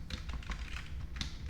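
Fast typing on a computer keyboard while coding in Roblox Studio, a quiet, dense run of small key clicks and taps close to the microphone, with no talking.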